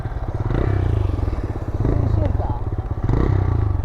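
A motorcycle engine idles and runs with a steady, low, throbbing rumble close by, rising slightly at moments, with some rattling clatter.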